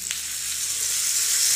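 Dried red chillies fry in hot oil with curry leaves for a tempering, a steady close hiss of sizzling that grows slightly louder and denser, with no talk.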